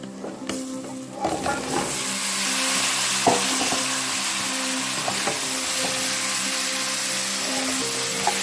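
Potatoes and chickpeas stirred through a hot curry mixture for curry aloo and channa, with a loud, continuous sizzle and a few sharp spoon scrapes near the start.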